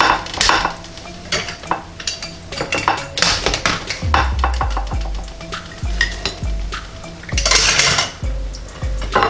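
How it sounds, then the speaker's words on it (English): A pizza slice from a first bake in a NuWave Bravo XL convection toaster oven is plated, with a plate and metal utensils clinking and scraping in repeated close, sharp knocks and rattles, some thudding low, with no talk. "All right, just gonna plate a slice here."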